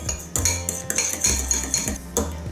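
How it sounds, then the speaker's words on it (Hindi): Leftover baking powder is mixed into oil for Moroccan msemen, with a metal spoon clinking and scraping against a bowl in quick, irregular strokes. "अभी हम तेल में जो बेकिंग पाउडर रह गया था उसमें डालते हैं और ठीक से मिक्स करो।"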